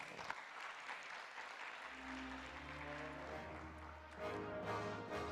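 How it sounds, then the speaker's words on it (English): Audience applause at a national solutions forum in Malaysia, a steady wash of clapping filling the hall for several seconds, with a low hum and some sustained tones running underneath. "Let's give Cray a round of applause"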